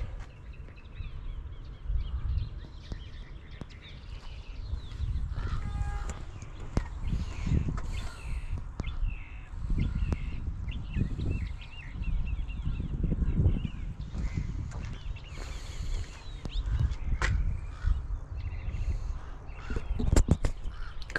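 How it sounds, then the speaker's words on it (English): Crows caw intermittently along a coastal loop trail in Crystal Cove State Park, calling at moderate distance over steady low wind rumble, with occasional louder calls and rustling. "The birds we get."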